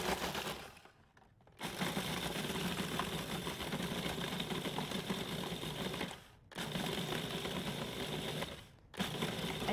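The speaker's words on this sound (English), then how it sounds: "this will crush up these cookies in no time if you have a food processor" A food processor crushes a package of cookies into fine crumbs, a loud grinding whir that runs in bursts broken by two brief stops, with no one speaking.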